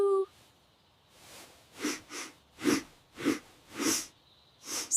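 Dust sets off a string of sharp sneezes, sniffs and snorts, about six bursts at irregular intervals, close to the microphone and clear against a quiet background.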